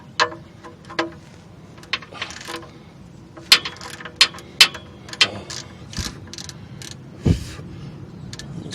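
Ratchet loosening the 14 mm oil drain bolt on a 2002 Saturn SL1, sharp separate clicks and creaks spaced irregularly, close and fairly loud, with one heavier knock near the end and no speech.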